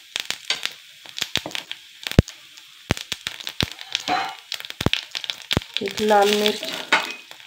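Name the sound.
tempering of cumin, curry leaves and red chili crackling in oil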